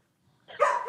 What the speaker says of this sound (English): he's outside, barking at his water bowl and his pen